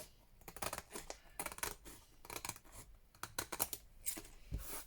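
Scissors snipping through paper scraps for a junk journal accordion book, a run of brisk close cuts in irregular bursts with rustling between them.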